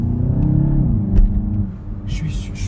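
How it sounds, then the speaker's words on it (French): Car engine and airbox intake sound heard from inside, a low steady rumbling drone with a slight swell, under a voice talking. "on a un son de moteur et de boîte à air"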